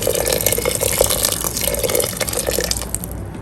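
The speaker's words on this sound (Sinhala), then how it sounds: "දැන් මම උතුරාගත්ත වතුර එකතු කරගන්නවා." Boiled water pours steadily into a cooking pot for an oats soup, a continuous close splashing and gurgling stream that runs without pause and eases slightly toward the end.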